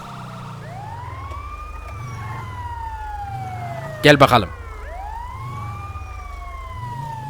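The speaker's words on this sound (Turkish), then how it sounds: "Gel ambulans kardeşim gel." An ambulance siren in GTA 5 wails in a steady rising and falling pattern at moderate distance, briefly cut through by a sharp burst of honks midway, while someone speaks over it.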